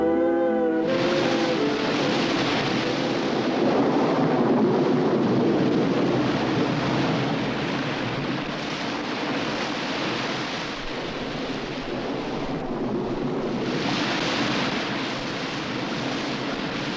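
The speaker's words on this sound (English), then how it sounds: "Winter storms hit the submarine forest with a devastating violence." A violent winter storm pounds the Pacific coast kelp forest, a loud, continuous roar of surging swells and crashing surf, rumbling and dense, with no voices.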